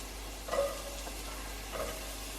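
Onion frying in hot oil with garlic in a pan, a quiet steady sizzle with a couple of soft stirring scrapes, no talking.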